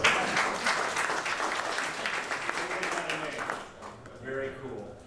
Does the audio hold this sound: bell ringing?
no